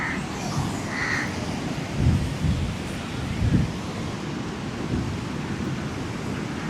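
Loud sea surf at Candolim Beach roars continuously, with heavier wave crashes swelling through the steady wash.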